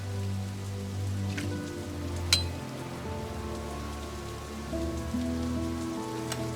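Steady rain patters in a video game, The Dark Eye: Chains of Satinav, a soft continuous hiss with occasional faint drip clinks beneath a low musical drone; no talking.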